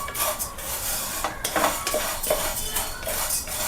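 Semolina roasting in a pan for upma, with a spoon clinking and scraping against the metal in irregular taps and strokes over a faint, steady background.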